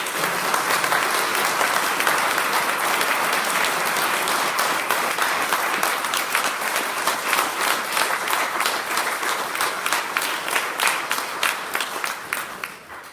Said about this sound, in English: A big round of applause for these.